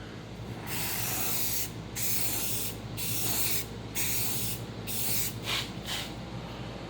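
An aerosol spray paint can hisses in several steady bursts of a second or so each, separated by short gaps, applied close up to keep rust off a project part.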